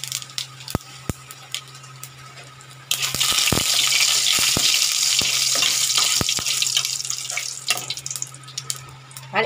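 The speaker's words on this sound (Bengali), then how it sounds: "এবার দেবো একটা শুকনো লঙ্কা, আর দেবো একটু গোটা জিরে।" One dried red chili and a little whole cumin hit hot oil in a kadai, bursting into a sudden dense, crackling sizzle after a few quiet clicks and knocks, then settling to a softer hiss.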